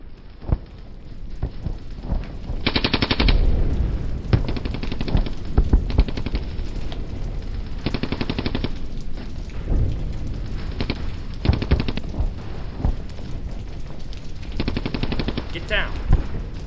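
Machine gun fire in a war movie battle scene, repeated loud bursts of rapid shots over a dense, noisy backdrop, with voices shouting in between.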